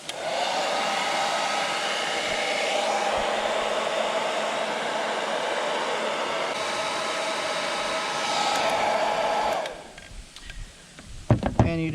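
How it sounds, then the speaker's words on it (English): A heat gun shrinks tubing over a wire connector during a boat navigation light install, blowing with a steady, close whoosh for about nine seconds before cutting off, followed by a few light handling clunks. "we'll take it over to the heat gun and we'll heat shrink this, and it will make a watertight seal"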